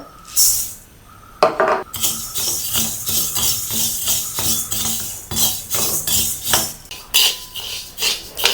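Black peppercorns, one cup, roasting in a thick, heavy pan, giving a steady rattling, scraping clatter of dry spice shifting against metal, with sharper clinks of a utensil stirring throughout.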